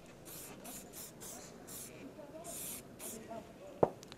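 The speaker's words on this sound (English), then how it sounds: "I'll use the hairspray just for ease." Hairspray hisses from an aerosol can onto a scale model being prepared for white winter whitewash chipping: about seven short, close bursts in an uneven rhythm, ending with a sharp click.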